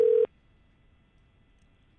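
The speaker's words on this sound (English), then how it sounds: "All right, calling Allison's cell phone." A single short steady telephone tone sounds loudly at the start of a phone call and cuts off after about a quarter second, leaving faint quiet.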